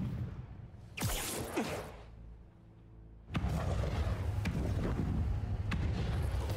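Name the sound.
fireworks explosions in Spider-Man 2 video game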